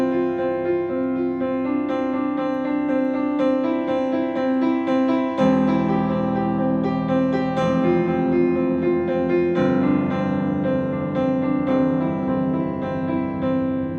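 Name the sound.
piano playing a section with sustain pedal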